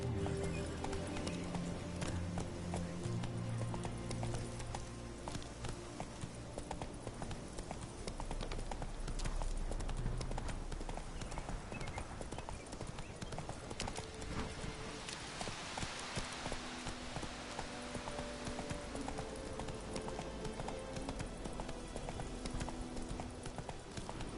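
Horse hooves clip-clop in a steady rhythm on a steep path in the Witcher 3 video game, with soft ambient game sounds underneath and no speech.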